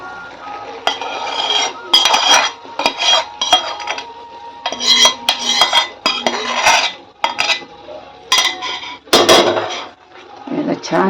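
Hot sugar syrup is stirred into Mahim halwa for modak filling, with repeated loud metallic scraping and clinking of a utensil against the pan in irregular bursts, close by.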